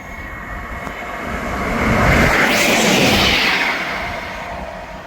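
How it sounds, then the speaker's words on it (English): A ScotRail class 158 diesel train passes through Monifieth station, its roar swelling from a distant hum to a loud rumbling peak near the middle and then fading away, with no voices. "Passing through now is the 1712 Scotrail service from Dundee to Aberdeen."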